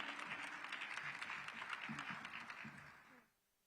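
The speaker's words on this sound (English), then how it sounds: "Round of applause for our Secretary of State." Audience applause at an International Women's Day event in Washington, D.C., a steady, dense patter of many hands that holds evenly for about three seconds and then quickly fades out.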